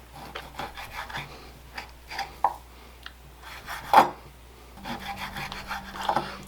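A sharp knife slices raw steak into thin strips for beef stroganoff, giving a series of soft, close rasping cuts with a few sharper knocks against the board, with no talking.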